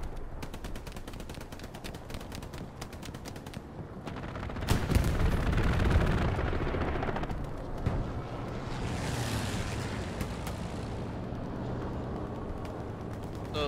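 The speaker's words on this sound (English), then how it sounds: "Bombing run coming on VN7." Bombing run explosions in Hell Let Loose arrive amid crackling gunfire, building to a heavy rumbling blast mid-clip before settling back into scattered distant shots and battlefield noise.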